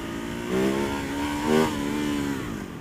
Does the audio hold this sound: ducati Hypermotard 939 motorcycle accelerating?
yes